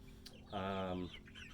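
One chicken lets out a short, drawn-out squawk, quiet and close, against faint background noise.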